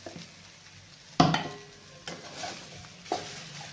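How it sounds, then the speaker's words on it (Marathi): Fried eggs are stirred into masala in a pan for a dhaba-style egg curry: a soft sizzle runs under a few distinct clinks and scrapes of a spoon against the pan, spaced about a second apart. "आता याच मसाल्यात आपल्याला अंडे टाकून द्यायचे."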